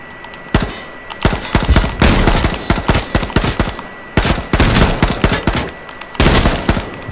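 Rapid automatic gunfire in PUBG on PS4, bursts of loud shots firing at an enemy in repeated close volleys with short pauses between them, no talk.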